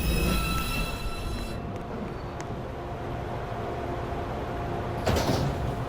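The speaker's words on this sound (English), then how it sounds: "Downtown Express 2 train. Approaching the station, please stand away from the platform edge." An NYC subway R142A 2 train pulls into the station, a rumbling roll of wheels and rail noise with high squeals early on, then a sharp burst of clatter near the end. No voices are heard.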